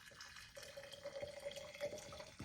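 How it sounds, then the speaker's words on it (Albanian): Hot water is poured into a glass jar in a home kitchen during dough preparation. It makes a quiet, steady trickling fill that starts after a brief pause and runs on evenly with a faint rising ring. "pra mbushim kavanozin"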